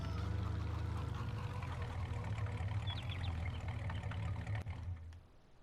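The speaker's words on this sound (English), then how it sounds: "This truck makes some awesome noise" A truck engine in the Farming Simulator 19 video game rumbles steadily at idle, a loud low drone that holds for several seconds before tapering off.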